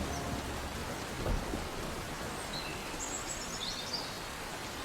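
Steady rain hisses throughout with a soft low rumble of thunder rolling in briefly, distant and subdued; no voices.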